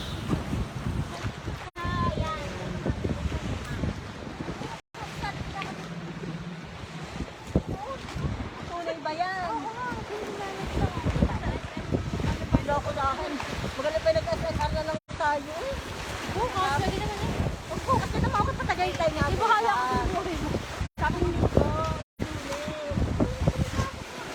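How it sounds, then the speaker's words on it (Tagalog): Waves breaking on a Taal Lake beach after an eruption, a continuous washing roar with wind buffeting the microphone, while several people talk nearby over it. "ang lakas ng alon"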